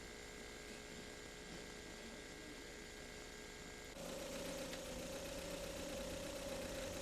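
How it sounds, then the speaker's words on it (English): A carbureted gasoline engine idles steadily as a low, constant hum. The tone shifts and grows slightly louder partway through, then holds even to the end, with no talking. "Give the idle speed 1 to 3 minutes to stabilize"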